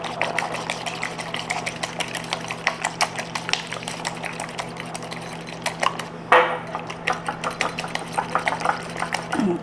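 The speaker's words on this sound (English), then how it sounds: "we're just going to go ahead and whisk this together" Three eggs being whisked in a small bowl for a pumpkin poke cake: quick, irregular clicking strokes against the bowl, close and fairly soft, over a steady low hum with no talking.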